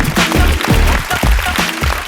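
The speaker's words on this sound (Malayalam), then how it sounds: "ആ ടീമിൽ എല്ലാവർക്കും നല്ലൊരു കൈയടി." Applause from a studio audience at a Diwali comedy show for a dance team from Kannur, a steady loud clatter of clapping filling the room throughout, with voices mixed in.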